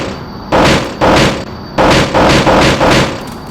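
Bombs and rockets dropping in Kerbal Space Program, the Interstellar Warfare mod, go off as a run of five loud, broad booming blasts. They come close together, each lasting about half a second.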